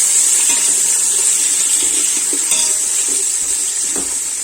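Onions dropped into a hot pan for chicken dum biryani, a loud, steady, hissing sizzle with a few faint clinks, continuous and without any talk.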